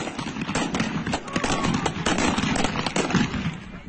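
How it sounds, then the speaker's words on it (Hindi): Gunfire exchanged during clashes in Iran, with dense crackling shots fired continuously from both sides, rattling and echoing for the whole stretch. "ये आमने सामने की फायरिंग का वीडियो देखिए।"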